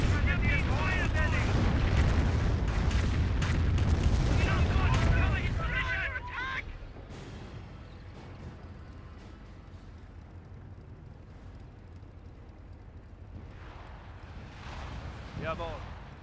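A rocket barrage in the video game Company of Heroes: several seconds of dense, loud, rumbling explosions, then a quieter battlefield wash with faint later blasts, while a voice talks over the action.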